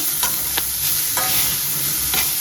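Roasted coconut stirred in a pan with onion, ginger and garlic, producing a soft continuous sizzle broken by several quick scraping strokes of the spoon.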